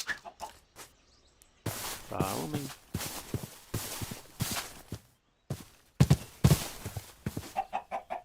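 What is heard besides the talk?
chickens clucking in video game RLCraft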